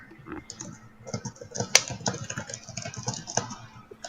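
Rapid, uneven clicking of keys on a computer keyboard, typed furiously in quick bursts with one sharp louder click near the middle, close and fairly quiet.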